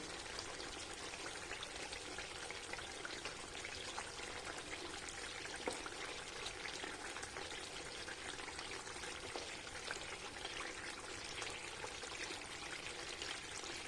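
Milk cream simmering down into ghee in a pan while being stirred, a steady, even bubbling hiss that runs unbroken and fairly quiet throughout, with no voices.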